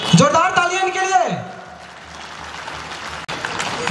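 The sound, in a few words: applause for guests at tribal day event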